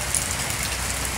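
Rain falling steadily, a dense, even hiss of drops on surfaces, close and constant with no voices.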